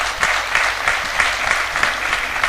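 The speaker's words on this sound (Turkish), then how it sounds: "Şöyle kocaman alkış istiyoruz sizlerden." An audience at a Yörük Türkmen cultural workshop in Antalya applauds, a dense, continuous burst of many hands clapping close and loud, with no speech over it.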